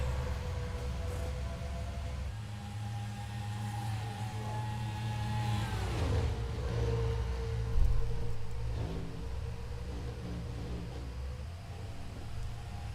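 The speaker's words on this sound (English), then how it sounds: "Biffle scooting away out of turn 4, the last lap at Miami" NASCAR stock cars on the last lap of the 2006 Ford Championship Weekend 500 at Miami, a steady loud engine roar with harmonic whine rising and falling as cars pass, continuous for the whole stretch with no talk.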